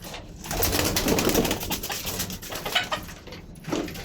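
High flyer pigeons coo close by in soft, repeated throaty bursts that rise and fall across a few seconds, with no talking.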